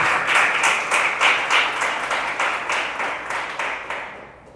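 A church congregation applauds during a sermon, loud and close, the clapping falling into a rhythmic pulse of roughly three beats per second before fading out at the end.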